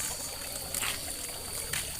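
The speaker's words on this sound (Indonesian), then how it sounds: "Masih ada pancuran di sini guys." Water trickles from a village water spout in the countryside, a soft, faint steady dribble with a few brief louder splashes.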